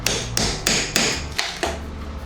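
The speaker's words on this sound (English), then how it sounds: "Right, if I hammer in here," Hammer striking wooden boards while prying them off a wall: six sharp, ringing blows in a steady rhythm, close and loud, with no talking.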